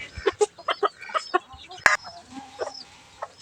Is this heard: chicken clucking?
yes